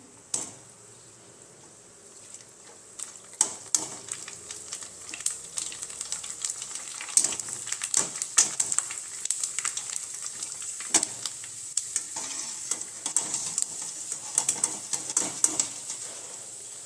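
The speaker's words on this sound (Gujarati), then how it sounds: "તો આપણે આ તેલ ગરમ થઈ ગયું છે, તો તેમાં આપણે આ પૂરી ઉમેરી દઈશું અને સરસ રીતે તળી લઈશું" Puris for pani puri frying in hot oil, a steady bright sizzle building up and crackling continuously with scattered pops and small splatters, close by.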